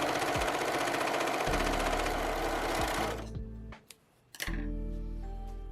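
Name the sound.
sewing machine sewing swimsuit side seams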